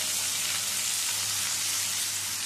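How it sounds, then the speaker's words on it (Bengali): Onion, green chili and garlic paste frying in a pan, with a continuous, close crackling sizzle at an even level and no talk. "এটাও একটু হালকা ভেজে নেব পেঁয়াজের রসটা শুকিয়ে যাওয়া পর্যন্ত"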